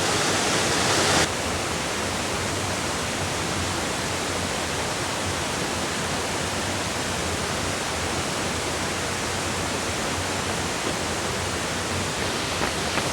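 Steady, full roar of a waterfall on Shickshinny Creek in Shickshinny, Pennsylvania, a continuous broadband rush of falling water close by, unbroken for the whole stretch with no voices.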